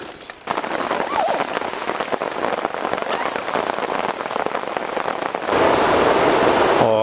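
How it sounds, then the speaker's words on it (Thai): Heavy rain pours down outdoors at a homestay campsite in Suan Phueng, a dense, steady hiss of drops drumming on surfaces that swells louder near the end. "บรรยากาศด้านนอกนะครับ ฝนตกนะครับ กระหน่ำเลย"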